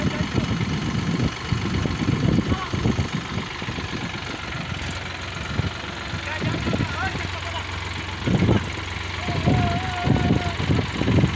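A Sonalika tractor's diesel engine runs at a steady idle-like chug, with heavy low knocking pulses rising and falling beneath voices talking nearby in a rural outdoor setting.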